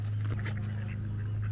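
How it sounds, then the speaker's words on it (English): A goose at Castle Espie Wetland Centre in Comber, giving a short burst of honking calls close by over a steady low hum, with no voice. "That's a goose."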